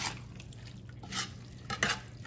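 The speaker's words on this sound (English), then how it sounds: "Just stirring it up." A one-pot meal of tomatoes and canned mixed vegetables with their juice being stirred in a pot, giving wet sloshing scrapes and a few light utensil knocks in short bursts.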